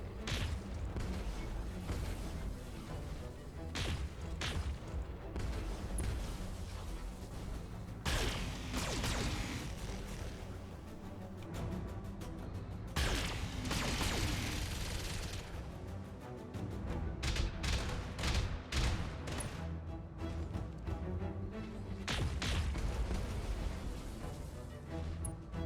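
Turrets fire in the BattleTech game, with repeated booming weapon shots and crashing impacts over a dense, continuous battle soundscape, loud throughout.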